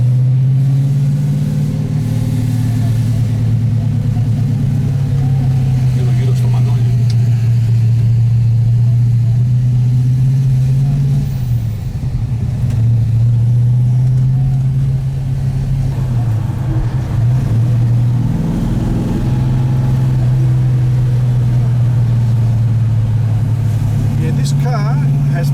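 A Ford GTHO Phase 3 tribute drives along with a steady, loud low engine drone that rises and dips as it accelerates and eases off, heard from inside the car with occasional voices underneath.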